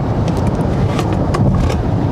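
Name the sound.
Genesis GV60 Performance AWD accelerating in boost mode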